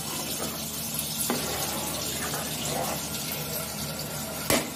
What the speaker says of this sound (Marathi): तर आता त्याच्यामध्ये टाकणार आहोत आपण पाणी.